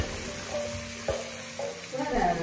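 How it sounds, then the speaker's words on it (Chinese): Chili powder stir-fried in a wok with garlic, red chilies and salt, a steady close sizzle with a few scraping strokes of a spatula against the pan. "再炒香"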